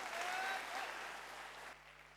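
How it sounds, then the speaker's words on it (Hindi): Audience applause at a public motivational talk, a broad steady wash of clapping that starts loud and gradually fades over about two seconds, with faint voices mixed in. "तो अपने आप के लिए जोरदार ताली बजाइए।"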